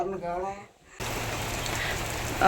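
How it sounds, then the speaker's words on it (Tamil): Heavy rain pours down on a house with a roof leaking everywhere, a dense steady hiss that starts abruptly after a brief moment of talking and continues loud and unbroken to the end. "சரியான மழை எல்லா இடங்கள்லையுமே வீடு ஃபுல்லாக ஒழுகுது"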